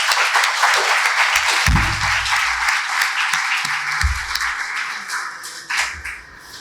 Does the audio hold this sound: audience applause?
yes